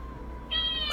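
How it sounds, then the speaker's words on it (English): A cat meows once, close and clear, a short rising call over a quiet indoor background with a faint steady hum. "Who is meowing?"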